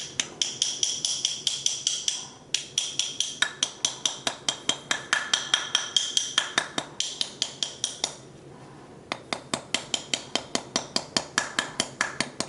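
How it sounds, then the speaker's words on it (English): Rapid, evenly spaced metallic taps ring out as a bent sterling silver or gold ring is hammered on a mandrel. They pause briefly and then resume, close and alone. "as you hammer, the ring will naturally fall down onto where it truly needs to rest"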